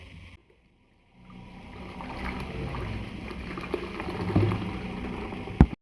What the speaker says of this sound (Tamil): இப்போ இதை வடிகட்டிக்கலாம்.